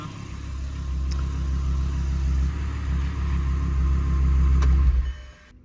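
A car engine with a loose exhaust manifold runs close and steady with its revs held high, a constant deep rumble that drops away abruptly near the end.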